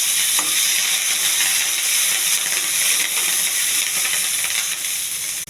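Chana dal, cumin, curry leaves and green chilies fry in hot oil as a tempering, a loud, continuous close sizzle with stirring scrapes running the whole way.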